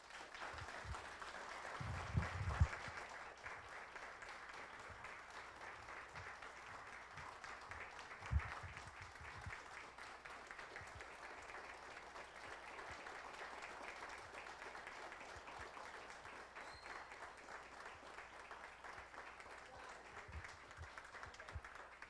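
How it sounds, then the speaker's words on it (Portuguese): Audience applause during a solemn tribute session honouring a professor, a quiet, distant, sustained patter of many hands clapping, with a few louder thumps early on and faint voices underneath. "queria pedir uma salva de palmas para a professora doutora Regiane"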